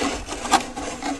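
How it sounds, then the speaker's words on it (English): Radio chassis being pulled out of the wooden case of a Silvertone T2 Egyptian radio, a single short scraping rub of wood and metal lasting about a second, close and fairly loud with no talking. "we should be able to pull this thing out."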